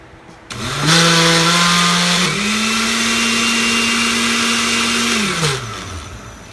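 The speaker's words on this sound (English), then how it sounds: "So I'm going to press smoothie again on my blender." A kitchen blender runs on its smoothie setting while making eggnog, spinning up with a loud whine, shifting pitch slightly partway through, then holding steady before winding down after about five seconds.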